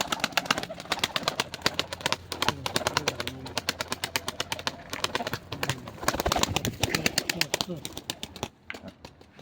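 Pigeons coo repeatedly close by, with rapid fluttering and shuffling sounds and some indistinct talk mixed in.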